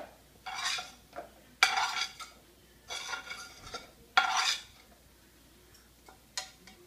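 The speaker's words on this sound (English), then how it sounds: "First step is to scrape up any leftover food and put it in a container meant for" Leftover food scraped off dishes into a container: several bursts of scraping and clinking of utensil against plate, each lasting about half a second with short pauses between, close and moderately loud, with no talking.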